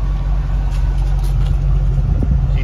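A 2014 Ford Shelby GT500 with a Borla exhaust idles up close, giving a loud, steady, deep rumble with no break.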